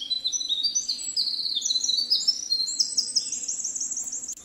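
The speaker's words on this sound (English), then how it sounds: "Winter wren" A winter wren sings in a forest with wildflowers, a long run of rapid, high, tumbling trills and warbles that carry on without a break from near range, with faint insect hum underneath.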